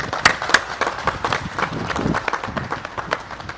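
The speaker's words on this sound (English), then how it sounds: "You need to give yourself a round of applause." An audience at a combined federal campaign event claps in a short burst of scattered applause, with uneven individual claps standing out near the start and then thinning out.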